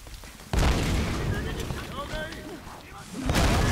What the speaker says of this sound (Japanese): あいつ爆発するんか。